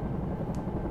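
A Bell 222 air ambulance helicopter in the X-Plane 11 simulator, near Aberdeen Airport, gives a steady, loud rotor and turbine drone with a dense, even low rumble throughout.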